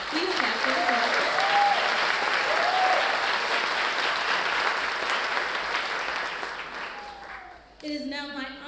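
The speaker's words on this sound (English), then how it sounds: "please clap for the graduates." A large crowd at a nursing pinning ceremony for Lehman College nursing graduates applauds steadily and loudly with some cheering, then tapers off as a voice begins to speak near the end.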